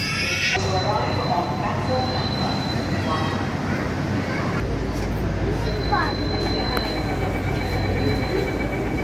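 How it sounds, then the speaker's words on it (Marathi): A Mumbai Metro Line 3 train rumbles loudly into the station, a whine rising over its steady roar, while voices talk underneath. "आता ही कफ परेडची मेट्रो आलेली आहे हे बघा"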